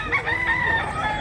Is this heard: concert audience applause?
no